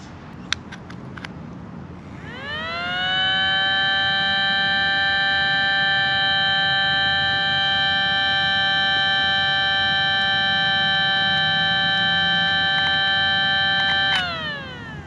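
A Los Angeles-series 7T model 912 outdoor warning siren in fire-service colors winds up to a loud, steady multi-tone wail, holds it for about twelve seconds, then drops off abruptly, with a few faint clicks before the start.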